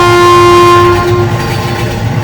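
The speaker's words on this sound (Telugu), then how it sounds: "రైలు చాలా వేగంగా వచ్చింది." A fast approaching train in an animated story, loud and close, with a sustained steady horn tone over a rumbling roar of wheels and carriages.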